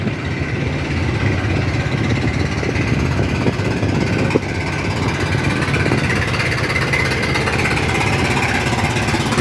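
Passenger launch engines at Sadarghat river port in Dhaka chug steadily, a dense, rattling mid-pitched drone that stays constant and fairly loud, with a bustling busy-port wash underneath.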